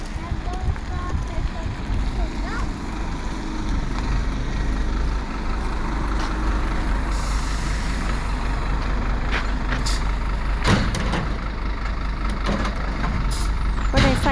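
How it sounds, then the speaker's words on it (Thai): A garbage truck collects rubbish on a street in Sweden, with a steady engine rumble, occasional hisses and clanks, and a voice talking throughout. "บาสเตียนคอมนู รถเก็บขยะจ้ะ"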